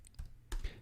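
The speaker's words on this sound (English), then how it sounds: "And yes, I'm typing with one finger over here." A computer keyboard typed on with one finger, giving a few sparse key taps in a quiet room.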